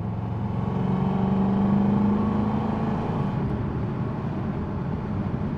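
Upgraded 1980 Chevrolet Corvette C3 cruising at about 65 mph and 2400 RPM, a steady droning engine note with road and cabin rumble, continuous and fairly loud with no talk.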